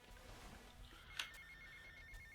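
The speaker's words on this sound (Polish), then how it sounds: "Okej, okay, dzwoni nam telefon." A phone rings in the video game Grand Theft Auto Vice City: faint trilling ring tones over a low ambient game background, with a sharp click partway through and no talk.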